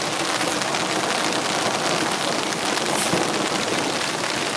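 Steady heavy rain drums on a campsite tent during a thunderstorm, a dense unbroken hiss throughout with no distinct thunderclap standing out.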